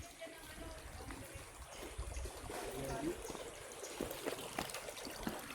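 Natural spring water trickling and flowing on a farm lot beside a clean river, a faint steady babble with small splashes close by.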